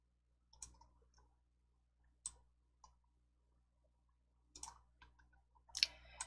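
A computer mouse clicking quietly and sparsely, about half a dozen sharp, isolated clicks spread out with short silences between them.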